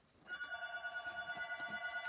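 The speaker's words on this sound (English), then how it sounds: "as we wait for the phone to ring" A telephone rings steadily with a bright electronic warble, in a repeating pulse that begins a moment in and continues throughout.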